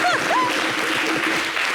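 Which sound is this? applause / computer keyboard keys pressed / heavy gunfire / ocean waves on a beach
applause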